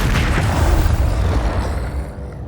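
Magical blast from Bombarda and Confringo spells in Hogwarts Legacy, a heavy booming roar of rumbling noise that swells loud and slowly decays over a couple of seconds.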